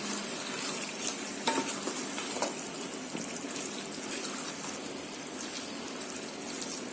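Chicken with fresh cream being stirred in a kadhai, a soft sizzle and wet scraping with a few light metallic clinks, steady and quiet with no talking.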